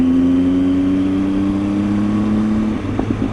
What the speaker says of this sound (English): the bike I'm riding right now, Arizona RE's bike